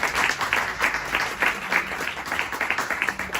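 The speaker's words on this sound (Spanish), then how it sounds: "Un aplauso." Steady applause from a live audience welcoming an author at the start of a talk in a series of conversations with Argentine writers, a dense patter of many hands clapping at an even level throughout.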